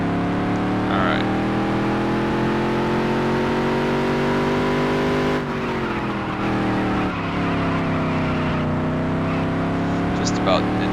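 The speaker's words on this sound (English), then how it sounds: "Just about in the point of downshifting there, but not quite" A dirt modified race car engine drones steadily and loud at close range, its pitch shifting slightly before dipping around the midpoint and climbing again, with no clean downshift evident.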